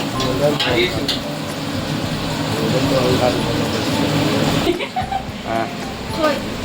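Onions frying in a pan for a curry, browning with a steady close sizzle and occasional stirring, while someone talks over it throughout.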